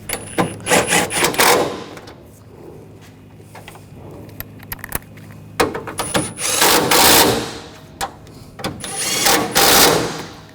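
A power driver whirs in several short bursts while screwing down the radiator fan assembly on a Nissan Rogue, with quiet handling noises and clunks between the runs.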